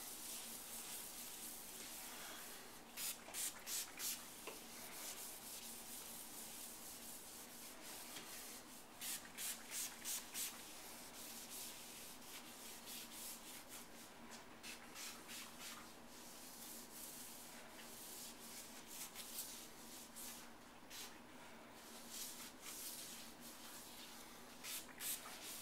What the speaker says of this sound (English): Make sure when you're doing the edges you roll and get the edges very well